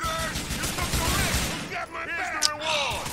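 Gunfire in the video game GTA 4: The Lost and The Damned, with dense bursts of shots at the start thinning into scattered shots and a sharp crack near the end, while someone talks over it.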